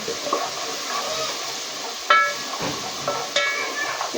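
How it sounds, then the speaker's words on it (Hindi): Garlic-ginger paste with garam masala is stirred and fried in a pan, a low sizzle running under scraping and a couple of sharp utensil knocks against the pot. "बस इसको थोड़ा सा फ्राई करेंगे लहसुन अदरक को"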